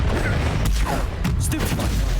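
Confringo explosive spell cast in the video game Hogwarts Legacy, a loud continuous blast with rumbling bursts and crackling impacts through the whole moment, dense and close with no pause.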